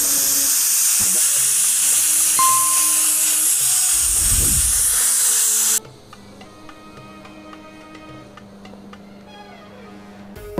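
A pressure cooker whistles while cooking mutton, giving a loud, steady steam hiss for about six seconds before it cuts off abruptly and quiet background music continues.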